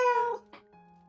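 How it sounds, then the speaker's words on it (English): A pet cat gives one clear, close meow with a falling pitch, then a soft brief chirp and a faint low hum in a quiet room. "Oh, there's Cat. my cat."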